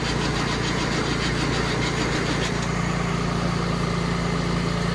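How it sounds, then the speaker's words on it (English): An old engine cranks over on a cold start after the battery connection has been tightened, giving a steady, loud, dense mechanical churn that is close by and continuous, with no talking. "Cranking better."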